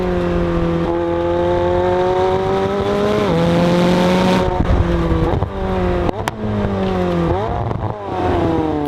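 A McLaren 720S sports car driven hard, engine note loud and close, climbing through revs with sharp gear shifts and brief lifts between pulls, no talking.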